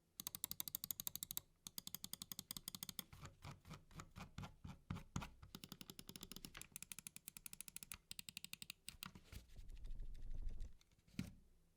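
Rapid bursts of sharp clicks from the buttons of a Model O Wireless gaming mouse, some in fast repeated runs and some single, close and crisp with short pauses between.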